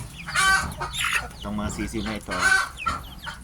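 Chicks from a native hen and Rhode Island Red rooster cross chirp and cluck in a brooder, several close calls overlapping in quick bursts.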